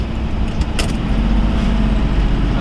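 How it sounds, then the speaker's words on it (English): A 1965 Dodge Coronet 500 Max Wedge engine rumbles loudly and steadily from inside the car during a downshift, with a brief click or jingle early on. "Okay, so now we're going to downshift."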